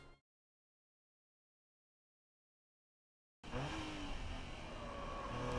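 A Nissan GT-R R35 on a Nürburgring lap accelerates hard after a short cut-off sound and then near silence, its engine roaring loud and steady as the revs climb, with no talk over it.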